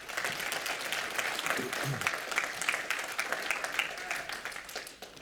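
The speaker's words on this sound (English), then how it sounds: "Go ahead and give the Lord a hand clap." Steady applause from a church congregation at a 25th anniversary service, many hands clapping together in a dense, continuous wash that fades slightly at the end.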